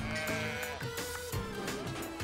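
Sheep bleat repeatedly on a farm where sheep and cattle are worked, the wavering calls overlapping one another at moderate distance against a steady outdoor background.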